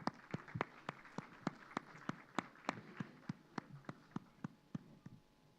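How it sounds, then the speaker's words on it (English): An audience at an inaugural session with the Governor of Bihar claps in a steady, rhythmic unison beat, each clap distinct and evenly spaced, heard faintly and without talk. "Please give them a round of applause"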